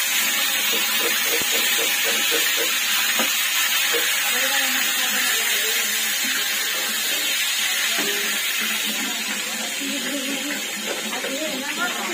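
Mustard seeds and asafoetida sizzle in hot oil while tempering for a Konkani usal, a steady broadband crackle and hiss close by that runs throughout, with a voice talking over it.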